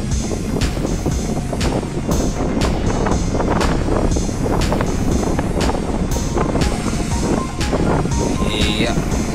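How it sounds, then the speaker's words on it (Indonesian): Strong west wind buffets a boat rolling on the Java Sea, a loud continuous roar of wind and water with gusty bursts throughout, while people talk over it. "angin kencang dari barat ini"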